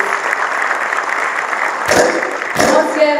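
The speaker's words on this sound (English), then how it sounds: "can we have a louder round of applause down here for our please?" A crowd at a tech event in Bengaluru applauds in a steady burst of clapping, broken by a couple of sharp knocks or thumps near the end.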